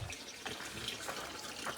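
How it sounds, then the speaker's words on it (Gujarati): A tap running slowly at a cow shelter in Bhavnagar, giving a faint, steady trickle of flowing water for a couple of seconds with no voices. "પાણી કેમ હરસદ ધીમું આવે છે"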